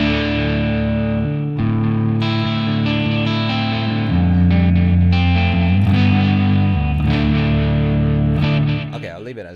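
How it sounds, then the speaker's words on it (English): An electric guitar runs through a delay effect set to heavy feedback for a dreamy ambient tone, its sustained, distorted chords smearing into dense repeating echoes that stay loud for nearly ten seconds before tailing off. "Okay, that's quite a lot of feedback there."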